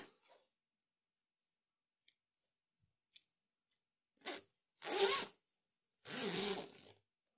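A zipper newly sewn into a ladies' jacket is closed in three short, quiet pulls, each a little longer than the last, after a few faint clicks in near silence.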